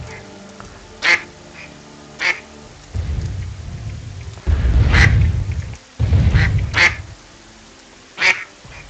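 Several sharp video game duck quacks ring out over steady rain and low rumbling thunder, spaced irregularly with gaps between them.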